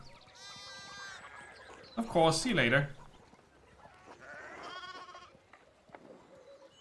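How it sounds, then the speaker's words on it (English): Sheep bleat in the video game Pentiment, a loud wavering cry in the middle followed by softer calls, while a person speaks briefly over the animal sounds. "we need to get the sheep under control"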